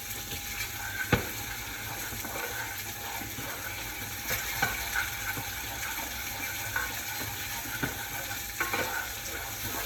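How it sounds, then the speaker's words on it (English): Salmon fillet frying skin-side down in a pan, a steady soft sizzle and crackle running throughout, with occasional brief clicks and taps, close and moderately quiet with no talking. "We can turn down the heat now, because now the skin's crispy and we don't want to burn the skin before the salmon's cooked."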